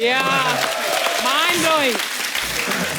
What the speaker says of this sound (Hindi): मैं इनका सबसे पहले भारत के प्रोमो के लिए जोरदार ताली हो जाए